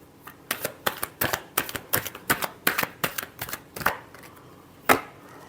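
A deck of tarot cards is shuffled by hand in quick bursts of riffling snaps, close and crisp, with a last separate slap near the end.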